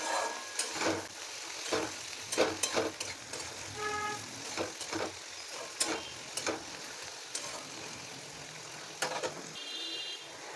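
Turmeric is stirred into okra in a hot pan, with a soft, steady sizzle under intermittent scraping strokes of a spoon against the pan, close and fairly quiet, no talk.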